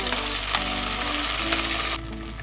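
Ginger garlic paste for mutton keema biryani sizzles loudly in a hot pan, with a dense, continuous frying hiss and a few stirring scrapes before the sizzle drops to a quieter level near the end.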